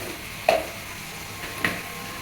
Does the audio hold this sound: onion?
yes